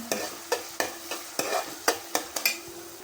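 Onions and garlic sauté in oil in a pan while a spatula scrapes and taps about ten times in an uneven rhythm over a faint sizzle, close up, with no talking.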